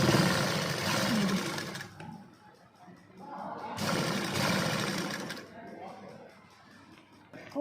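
A sewing machine stitches shirt fabric in two close, whirring bursts separated by a pause, with someone speaking over and between the runs.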